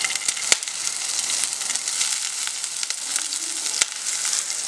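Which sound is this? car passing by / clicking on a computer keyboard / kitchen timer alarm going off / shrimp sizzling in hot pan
shrimp sizzling in hot pan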